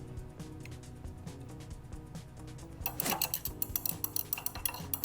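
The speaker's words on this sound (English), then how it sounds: "So I'm going to dump this in and give it a quick stir." Fragrance oil gets a quick stir into perfumer's alcohol for an eau de cologne: faint ticking at first, then a burst of rapid, bright clinks from a utensil against a glass vessel.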